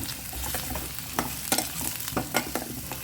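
Hog plums being stirred into onions fried for a minute in a pan, with repeated scraping and clacking strokes of a spoon over a steady close sizzle and no talk.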